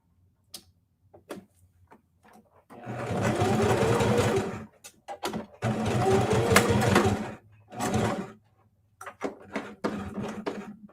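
A home sewing machine stitches crossed buttonhole stitches in three short bursts of whirring, broken by clicks and taps of the presser foot and fabric handling.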